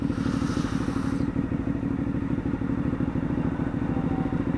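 A motorcycle engine fitted with a new aftermarket exhaust idles on its own, close by, with a steady loud rumbling pulse that runs throughout.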